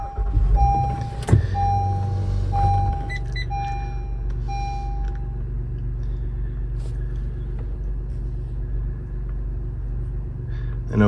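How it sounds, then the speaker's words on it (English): A 2016-2022 Honda Pilot engine cranks and catches about a second in, then settles into a steady, low idle rumble. A repeating electronic chime rings before and just after the start. No one speaks. "So we're gonna start the car up."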